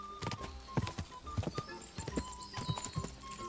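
Horse hooves galloping in the video game Kingdom Come 2, a quick, uneven clip-clop of hoofbeats close by, with faint background sounds and no clear talk.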